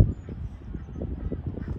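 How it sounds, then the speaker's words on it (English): Swans in the countryside around Amsterdam give low, rhythmic honking calls, soft and somewhat distant, repeating steadily with no talk. "Look at these swans, so cute."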